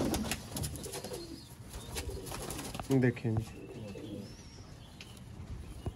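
Sialkoti pigeons cooing in soft, low bursts close by, while someone speaks briefly amid other faint bird chirps.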